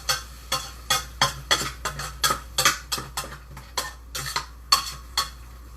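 Barbecue ingredients, potatoes with a little ranch dressing, are shaken and mixed in a container, giving a close, rhythmic series of about a dozen sharp rattling strokes with brief pauses and no talking.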